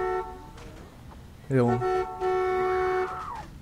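A car horn honks in The Walking Dead video game, one short blast followed by a long sustained tone, close and loud over game background noise, with people talking briefly.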